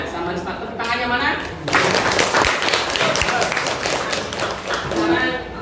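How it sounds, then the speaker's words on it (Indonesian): Classroom of students applauding a classmate during a lesson, broad dense clapping swelling after a second and continuing steadily with some voices mixed in. "Tepuk tangannya mana?"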